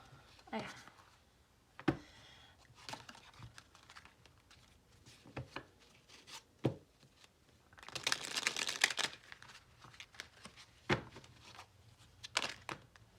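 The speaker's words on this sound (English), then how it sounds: "If you guys want to see me shuffle," A deck of cards is shuffled in several quick riffles, crisp fluttering bursts with one longer, louder riffle midway, between soft taps and handling noises.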